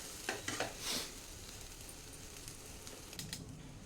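Cooked Schezwan rice being stirred in a pan, with quiet scraping and clinking strokes bunched near the start and again near the end, over a soft, steady low rumble.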